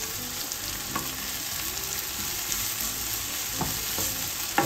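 Tomato sautéed with octopus in a pan over medium-high heat, a continuous close sizzle with occasional soft scraping stirs and a louder clatter near the end.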